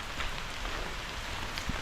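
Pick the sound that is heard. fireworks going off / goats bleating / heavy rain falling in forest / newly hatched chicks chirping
heavy rain falling in forest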